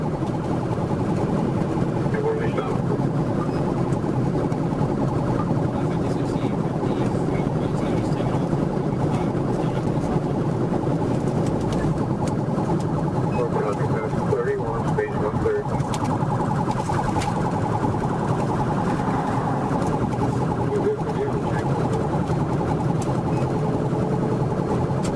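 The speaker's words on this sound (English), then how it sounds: "With lights and sirens activated in a fully marked patrol car" A fully marked state patrol car runs with lights and sirens during a high-speed chase, its siren wailing faintly under a steady road and engine roar while someone talks over it.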